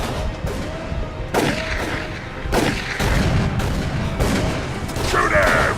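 Gunfire in Call of Cthulhu: Dark Corners of the Earth cracks out as a string of about seven sharp, loud shots at uneven intervals over a murky ambient bed, with faint voices in the background.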